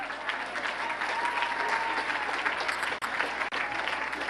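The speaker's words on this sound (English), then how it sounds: "Please, a round of applause for the wonderful actress, Deborah Winger." Audience at a gala applauding an actress, a dense, steady wash of clapping from a large crowd filling the room, continuous throughout with two brief dropouts near the end.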